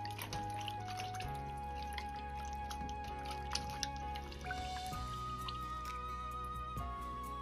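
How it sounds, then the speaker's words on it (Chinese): Peeled stem lettuce is washed in water, with soft drips, splashes and squishy handling sounds that stay faint and close and carry no speech. "全部削好后，放入水中清洗干净。"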